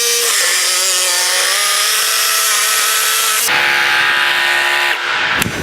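A cordless jigsaw drives a 10-inch Bosch blade through a 6x6 wooden beam, giving a loud, steady, high-pitched whine and buzz that holds for several seconds, changes in pitch midway, and then tails off as the cut finishes.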